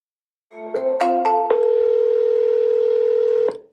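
A phone call placed by clicking call: a few short dialing beeps, then one steady ringing tone held for about two seconds, loud and clear with no talk.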